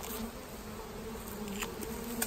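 Bees hum in a dense, continuous drone around a swarm trap outdoors, close and steady with slight pitch wavering, no voices.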